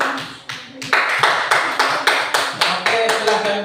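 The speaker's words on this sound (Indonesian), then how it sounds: "Tepuk tangan." A group of elementary school pupils claps together in a classroom with loud, sharp, rhythmic claps in a regular beat, about a dozen strokes in unison, with a faint voice underneath.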